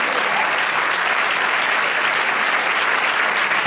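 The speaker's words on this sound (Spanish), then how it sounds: "Dale un aplauso al Señor." A church congregation breaks into loud, sustained applause, a dense steady wash of clapping filling the room from start to finish with no pauses.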